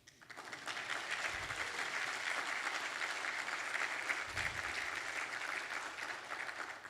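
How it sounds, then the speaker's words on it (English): An audience applauds at a governor's economic development announcement in West Virginia. The clapping is steady and dense, holding evenly loud for several seconds before it starts to thin. "Now you can really clap."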